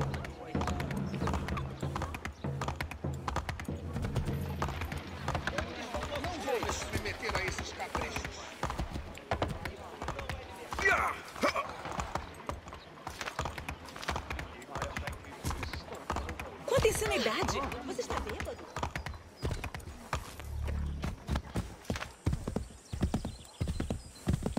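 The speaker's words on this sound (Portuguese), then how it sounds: "Peguei logo um cavalo que não corre" Horse hooves clop in irregular bursts alongside a neigh in Assassin's Creed 3 gameplay, the footfalls fairly close and varying in pace, with game ambience underneath.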